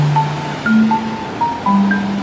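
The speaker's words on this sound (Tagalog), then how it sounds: "Ang taas ng alon." High ocean waves roar onto a beach in the early morning, a loud, steady wash of surf with a few thin tonal sounds drifting over it.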